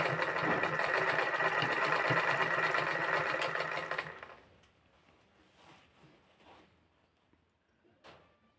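Sewing machine stitching the picot edge of a saree runs in a steady, close, loud whir for about four seconds, then stops, leaving faint handling clicks.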